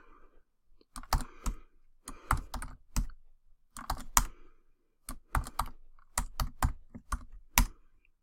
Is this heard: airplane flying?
no